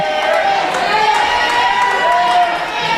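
A wrestling crowd in Texas cheers for Barrett Brown, a sustained, fairly loud roar of voices and yells that rises and falls slightly across the moment.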